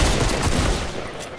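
Rapid bursts of gunfire in the Fortnite video game, loud and dense, continuing across the whole short moment with no talk over it.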